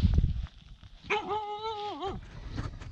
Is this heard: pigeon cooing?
no